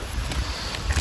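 Gusty wind buffets the microphone in low rumbling thumps, with a faint hiss of moving air behind it.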